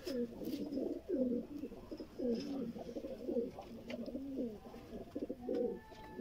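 Sialkoti pigeons with red pearl eyes coo repeatedly in soft, rolling phrases, close and fairly quiet, with faint background noise and no talk.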